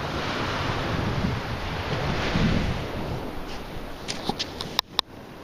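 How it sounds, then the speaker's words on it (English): Small ocean waves wash onto a beach in a steady broadband rush, with wind buffeting the microphone and a few sharp clicks near the end. "Not many waves today."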